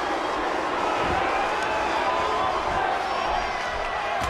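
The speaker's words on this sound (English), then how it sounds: "Would you listen to this crowd show their appreciation for these amazing competitors?" Dense crowd roar from a wrestling video game, broad and steady with faint whoops and cheers rising through it; a commentator talks over the noise.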